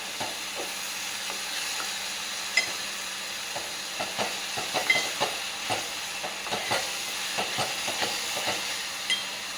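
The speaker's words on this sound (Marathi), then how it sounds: "आपण त्यामध्ये मिल्कमेड घालू. छान सगळं परतून घेऊ." A spoon stirs and scrapes carrot halwa with condensed milk in a pan, with soft sizzling throughout and irregular sharp clinks of metal on metal, close and fairly loud, no voices.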